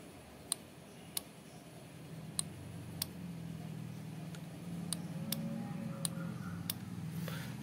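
A 4-pin horn relay wired into a two-wheeler clicks as the horn switch is pressed, giving a series of sharp, faint ticks at irregular intervals over a low background hum.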